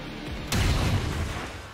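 A soldier fires at a large enemy in the video game XCOM 2, one sharp booming shot cutting in over a low background rumble and then fading out.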